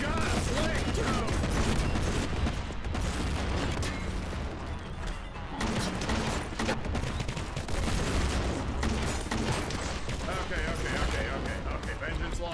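A Vengeance launcher fires repeatedly in the Warhammer 40K: Boltgun video game. The blasts come as a loud, dense barrage of explosive shots and crashes that barely lets up, with speech mixed underneath.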